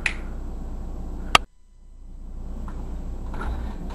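A single sharp finger snap cracks out once, close and crisp, followed by a brief drop into near silence as the background hum fades back in.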